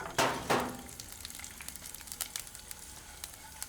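Mustard seeds, urad dal and dried red chillies crackle and sizzle in hot oil in a pan, with two sharp loud bursts near the start, then a steady light spattering of small pops that carries on alone.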